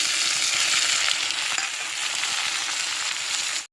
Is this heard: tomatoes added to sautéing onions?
yes